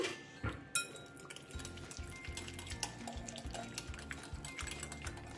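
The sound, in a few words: whisking softened butter with a whisk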